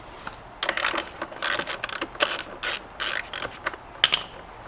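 A socket wrench with an 8mm socket ratchets a bolt loose during a headlight install on a 2013-2017 Kawasaki Ninja 300, close rapid clicking in short repeated strokes with no talk.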